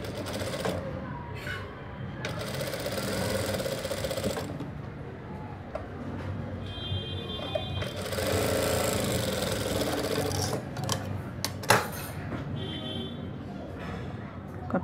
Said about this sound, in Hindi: इधर 5 इंच पे सिलाई देंगे।